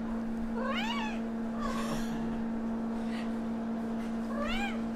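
A small cat gives a few short, high meows spaced apart, fairly close, over a steady background hum.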